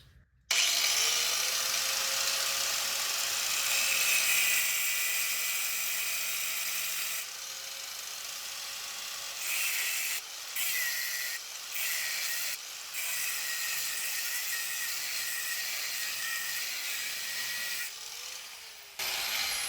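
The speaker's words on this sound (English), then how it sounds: "I'm gonna cut this hammerhead in half." A ball-peen hammerhead is cut in half on a bandsaw, a steady high grinding saw tone running for most of the stretch with a few brief pauses, close and prominent with no speech.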